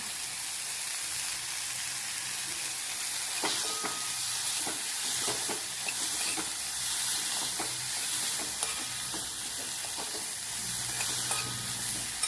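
Shepu, potato and ambat chuka greens with peanuts are sautéed in a pan, giving a soft, steady sizzle broken by repeated scraping stirs throughout.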